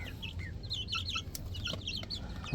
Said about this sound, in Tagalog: Yan muna update natin sa mga Rhode Island natin nasisiw.